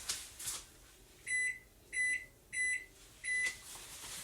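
A kitchen timer goes off while chocolate chip cookies bake, four evenly spaced electronic beeps about half a second apart, clear and fairly close over a faint hiss, with no voices.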